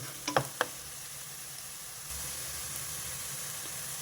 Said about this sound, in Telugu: ఆ ఉల్లిపాయలు వెల్లుల్లిపాయలు వేగినాయి కదా